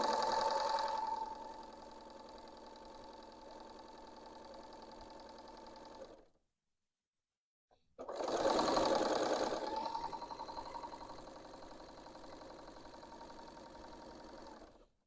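A Bernina L890 sewing machine stitches a rolled hem on a napkin, running with a steady mechanical whir, stopping for a couple of seconds, then starting up again louder before settling.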